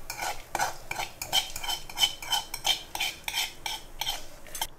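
Roasted coconut being scraped and transferred into a mixer jar, a run of quick rhythmic metal spoon scrapes and taps against the pan and jar, close and moderately loud.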